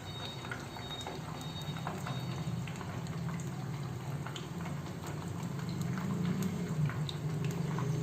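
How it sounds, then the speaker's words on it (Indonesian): Tofu frying in a generous amount of oil, a steady close bubbling sizzle with scattered crackles running throughout, no voices. "Lalu kita masukin tahu, goreng tahu sampai kering."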